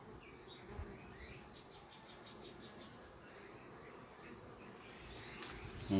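Honeybee colonies hum busily around beehives in an apiary, a steady outdoor drone of many bees with individual insects buzzing past close by, fairly quiet overall.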